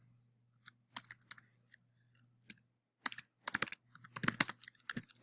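Search words are typed on a computer keyboard in short, irregular clusters of quiet clicks separated by pauses, close and faint over a low hum.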